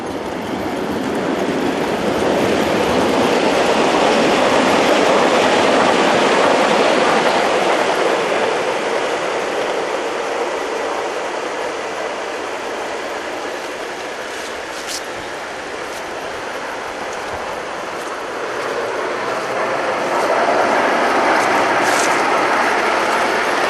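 A Gauge 1 fine-scale brass Black 5 model locomotive runs smoothly under throttle, producing a continuous rushing, rumbling rail noise that swells and eases over about twenty seconds, with a few faint clicks.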